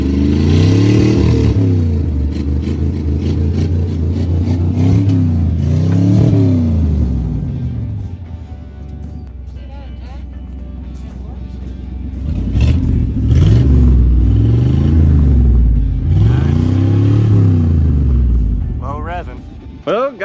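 A rare 1973 Mercury Montego being driven down the road, its engine loud and close, rising and falling through repeated revs and gear changes, easing off midway before pulling hard again.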